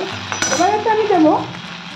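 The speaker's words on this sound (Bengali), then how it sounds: "5 মিনিট পর ঢ্যাঁড়সগুলো ভাজা হয়ে গেল" Okra sizzling as it fries in a pan, a steady close hiss with stirring, while a voice sings or hums over it briefly.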